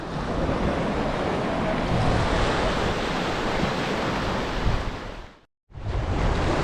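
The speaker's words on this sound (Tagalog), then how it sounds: "Sobrang alon, nakakatakot." Strong ocean waves at Comas Island, Sual, Pangasinan, a loud continuous roar of surf mixed with wind buffeting the microphone, broken briefly by a short silence near the end.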